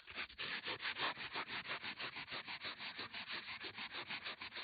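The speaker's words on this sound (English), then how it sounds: "give it a little bit of a sand so it's nice and smooth" Sandpaper rubs rhythmically back and forth over an old wooden walking stick, about five strokes per second, a close, soft, steady rasping with no talk.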